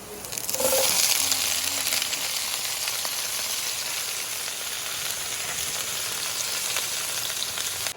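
Vegetables sautéing in a hot pan give a loud, steady sizzle that stays close and constant throughout, with a brief louder burst near the start and no talking.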